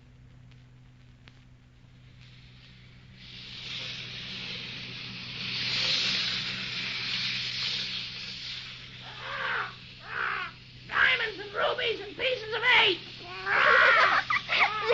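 A parrot aboard a sailing ship gives a long, harsh squawk, then speaks a short phrase in a croaky voice in choppy bursts over a low engine hum.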